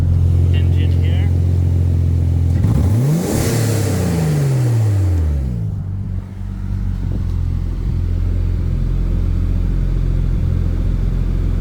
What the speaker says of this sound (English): Try to let you hear this engine here.